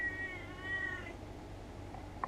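A cat lets out one drawn-out meow up close, fading after about a second over a low background hum, followed by a faint brief click.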